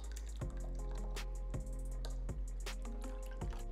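Coconut milk poured for spinach cooked in coconut milk, a short close run of liquid drips and splashes with soft trickling, no voices.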